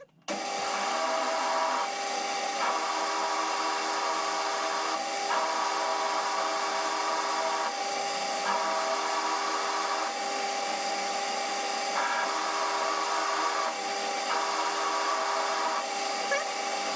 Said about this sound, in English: I'm going to plunge in with the parting tool.